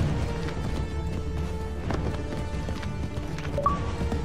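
Horses gallop in Assassin's Creed 3, a steady rolling clatter of hooves under game ambience and wind, moderately loud throughout with no talk.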